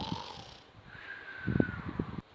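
A hare's snoring in a narrated tortoise-and-hare fable, voiced as a few breathy, rasping snorts near the end after a quiet stretch, close and fairly soft.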